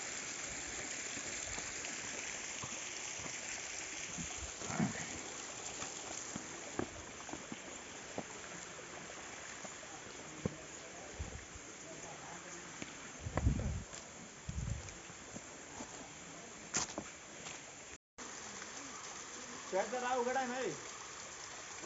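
A shallow stream at Pawankhind runs low outside the monsoon, giving a steady broadband rush of flowing water throughout, with occasional footsteps, handling noises and brief voices nearby.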